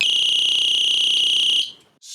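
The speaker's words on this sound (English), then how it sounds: "if you press the button on the side of the light, it will activate the alarm" A SMINGXI YC8001 flat EDC flashlight sounds its alarm: a loud, piercing, steady high-pitched electronic tone held close, then cut off abruptly before a brief faint restart.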